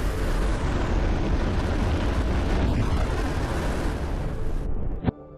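A rocket motor ignites and thrusts a vertical-jumping RC car off a grassy field, a loud sustained roaring blast that holds steady for about five seconds before cutting off sharply with a final pop.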